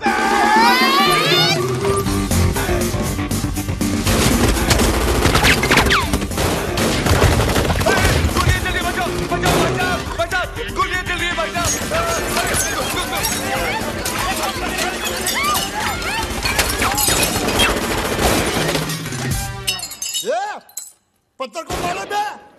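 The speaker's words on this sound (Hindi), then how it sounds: "तो वो बोलता है गोलियां कौन चला रहा है रे?" Comic Hindi film scene with a loud, dense burst of gunfire and shouting voices, sustained chaotic bangs and crowd noise over most of the stretch before a short drop near the end.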